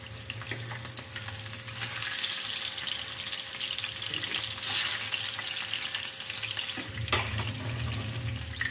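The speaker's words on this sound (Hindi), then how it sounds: "बाकी भी फिश इसी तरह से फ्राई कर लेते हैं।" Masala fish frying in oil crackles and sizzles steadily at close range, with a few louder bursts as the pieces are turned, and no talking.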